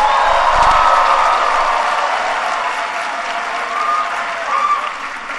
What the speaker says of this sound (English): can everybody please give Grace another big round of applause?